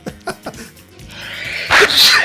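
A single sharp sneeze up close, a quick intake of breath building into a loud burst, preceded by a few short soft sounds.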